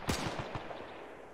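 In a video game, gunfire is aimed at German infantry as a short burst of four or five sharp shots. The first shot is loudest and the rest trail off quickly, with no talk over them.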